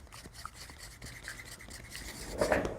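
A spatula scrapes around the sides of a container of a mixed formula, producing soft, close rubbing strokes that build to a louder scrape near the end, with no talking.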